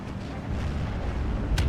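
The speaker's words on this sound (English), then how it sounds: "Big rockets coming down onto this infantry push as well." Rocket artillery barrage striking infantry in the war game Steel Division 2, a low rumbling boom rolling on throughout, with one sharper burst near the end.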